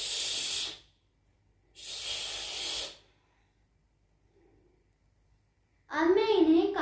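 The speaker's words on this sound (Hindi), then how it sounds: "ताहा आप इन प्याज को धो दें।" Running water from a tap hisses in two bursts while onions are washed in a home kitchen, the flow stopping between them, before a voice begins speaking.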